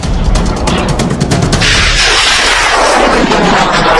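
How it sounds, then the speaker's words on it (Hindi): Rockets fired by Hamas explode as Israel's Iron Dome intercepts them in the air, making loud continuous rumbling booms and crackling blasts that overlap densely with no pauses. "इजराइल का आयरन डोम एक एक रॉकेट को हवा में उड़ा रहा है"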